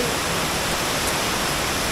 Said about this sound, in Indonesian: karena ini suara airnya begitu deras banget